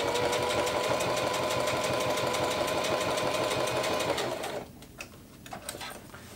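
A new Singer HD sewing machine runs a fast, steady stitch on a small test piece, a loud close mechanical whir that stops about two-thirds through, followed by faint handling sounds.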